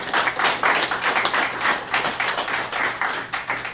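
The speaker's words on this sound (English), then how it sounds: "yay, more clapping" A small audience claps after a talk, a scattered patter of hands that stays fairly steady and close for a few seconds, with a faint low hum underneath and no one speaking.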